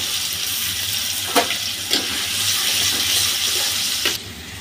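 Crushed garlic frying in a pan for a prawn and pumpkin dish gives a loud, steady sizzling hiss, broken by a few sharp clicks and pops.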